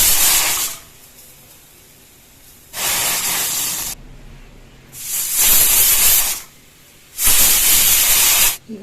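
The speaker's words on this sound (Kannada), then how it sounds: "ಈಗ 4 ಸೀಟಿ ಆಗಿದೆ" A pressure cooker boiling chana dal vents steam in four loud, hissing whistle bursts, each lasting one to two seconds and separated by quieter gaps, with no talking.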